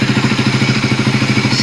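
A motorcycle engine idles after a throttle body cleaning, a loud, close, steady low chugging with an even rhythmic pulse and no talking.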